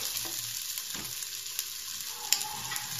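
Chopped onion sautés in oil in a pan for chicken macaroni, giving a steady close hiss of sizzling with a few faint stirring clicks.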